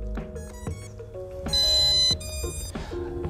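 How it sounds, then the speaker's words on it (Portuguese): The radio controller of a Holy Stone HS720e drone plays a series of bright electronic tones as it pairs, with several short beeps and one longer, louder tone close by. "quando você liga o drone, faz um bip no rádio. Isso significa que foi pareado o seu rádio com o drone"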